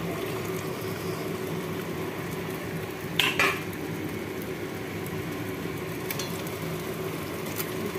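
Chicken being cooked down in a pan gives a low continuous sizzle and simmer, broken by a brief clatter of stirring partway through and faint scrapes later.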